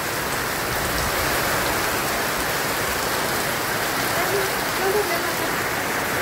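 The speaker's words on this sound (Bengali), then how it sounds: "দেখেন অনেক বৃষ্টি হইতেছে" Heavy rain falls over a village in a dense, unbroken roar of drops, loud and steady throughout with no clear voices above it.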